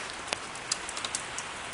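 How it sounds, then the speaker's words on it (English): Steady light rain falling outdoors in Metro Manila, a faint continuous hiss with scattered soft drip ticks, distant and low in level, no voices present. "So, it's raining here in Metro Manila."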